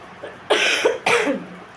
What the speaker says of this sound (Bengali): আমার একটু কাশি পাচ্ছে